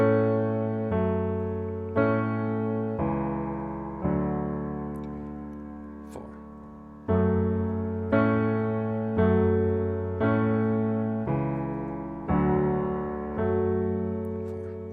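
Solo piano plays the stripped-down intro and verse chord progression of a song, with a sustained chord struck roughly every second or two, each ringing and decaying, moderately soft, no talking.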